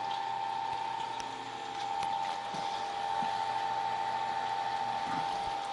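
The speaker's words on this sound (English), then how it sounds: "we'll turn the pump back on just while we're heating up" On a home brewing rig, a pump circulates blonde ale wort as it heats, giving a faint, steady, even hum with light watery undertones and no voices.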